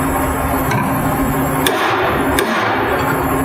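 A hammer drives a lock washer tab into a bearing lock ring, giving a few sharp metallic strikes over a constant mechanical background hum in a workshop.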